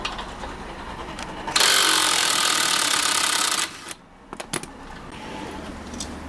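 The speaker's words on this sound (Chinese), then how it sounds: "我们也是使用了电动的一个螺丝刀， 把对应的螺丝给拧一下" An electric screwdriver works screws on an e-bike's front wheel during a repair, giving a loud, steady whirring burst of about two seconds that is followed by a few small clicks and taps.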